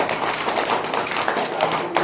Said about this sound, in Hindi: एक बार जोर से ताली बजाओ।